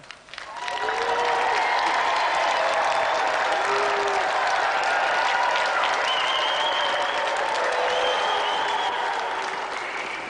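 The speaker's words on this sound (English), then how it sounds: "give a round of applause" A game show studio audience breaks into sustained applause, a dense wash of clapping with a few scattered cheers, loud and steady until the end.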